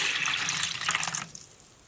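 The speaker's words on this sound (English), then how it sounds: "I'm going to pour it into the bowl and add some water in" Water poured into a bowl of instant snow powder for making cloud slime, a close, bright splashing stream lasting about a second that stops abruptly, leaving near silence.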